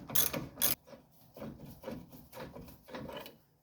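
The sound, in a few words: ratchet removing strut bolt on Ford Explorer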